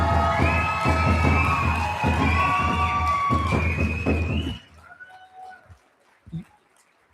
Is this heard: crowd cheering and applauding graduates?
yes